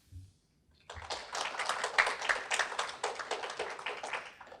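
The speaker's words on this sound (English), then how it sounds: "That's your applause." Applause for an award winner at a virtual Clean Air Campaign awards ceremony: after a short quiet start, steady clapping from a small group continues evenly to the end, fairly soft.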